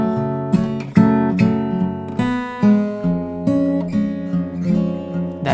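Fingerstyle acoustic guitar plays the chorus of a song as a solo arrangement, with a haunting chord progression of plucked notes ringing in a steady, gentle rhythm, close and clear.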